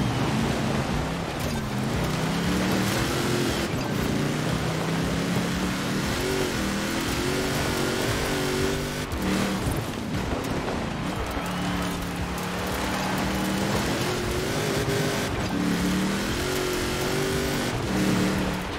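A Hummer H1 Alpha with a turbocharged 7.0L V8 in the racing game Forza Horizon 4 rumbles and revs throughout, its engine note rising and falling through gear changes at steady loudness.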